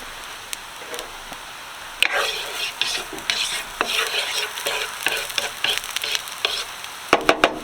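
Garlic sizzles and fries in a pan with a steady crackling hiss, broken by repeated clinks and scrapes of a utensil stirring, close up and fairly quiet, no talking.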